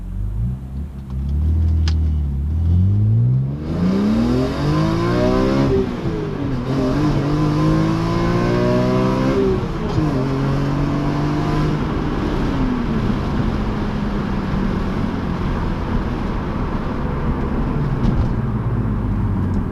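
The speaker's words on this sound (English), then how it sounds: "the engine is absolutely glorious. Revving to 8K" A BMW E46 M3 engine revs hard and high toward 8,000 rpm, pitch sweeping up and dropping back repeatedly in loud, close bursts over a steady rumble.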